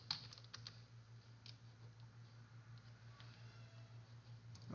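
A short burst of quiet keystrokes on a computer keyboard as a Docker command is entered, soft clicks clustered at the start and end over a steady low electrical hum.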